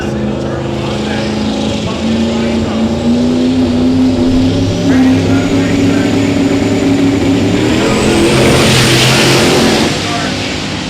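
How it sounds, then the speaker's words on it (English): LS-swapped single-turbo Mustang launching down a drag strip, a loud revving engine with a rising tone over a steady roar, under an announcer's commentary. "Doug Cook coming up in the LS single turbo Mustang."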